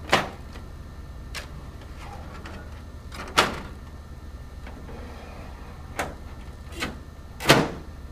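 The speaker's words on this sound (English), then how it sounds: "Close all the doors." Doors of an HP 4700 laser printer being shut: several sharp plastic clicks and thumps spaced a second or more apart over a low steady machine hum, with the last closure loudest.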